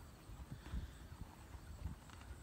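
Horses outdoors on a quiet, muggy morning, their hooves clip-clopping faintly in an uneven rhythm over a soft background hiss.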